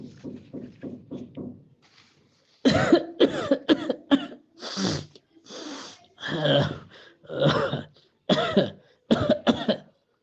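Repeated coughing from an adult with a chest cold, several harsh, loud bursts in close succession after a short run of quieter rhythmic sounds.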